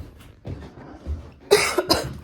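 Coughing outdoors on a cold, snowy morning near a park: a few low muffled sounds give way to a loud, harsh burst of two or three close coughs.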